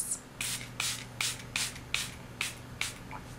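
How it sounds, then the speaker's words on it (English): Hydration spray misted over a face in repeated short bursts, eight quick hissing sprays in a steady rhythm, close and fairly quiet with no talking. "I grab my handy dandy D2O hydration spray and I spray it all over my face."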